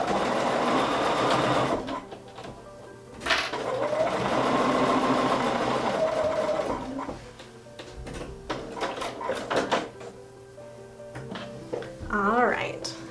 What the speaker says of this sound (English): take it to our machine. And again, I know that this is a perfect 1/4 inch seam, so I just measured it. So I'm going to slip it in and stitch